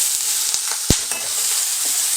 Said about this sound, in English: we're going to flash frying on medium heat in half a tablespoon of oil